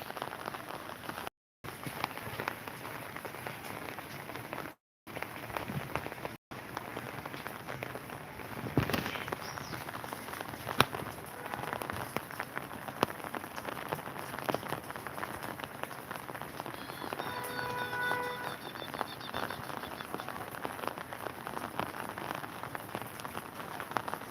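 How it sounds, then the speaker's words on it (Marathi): Heavy monsoon rain pours steadily and densely throughout in Latur, a continuous hiss with scattered spatters and drips, a few brief dropouts breaking it early on. "पाऊस अतिशय भयानक पडत आहे मुसळधार पाऊस पडत आहे"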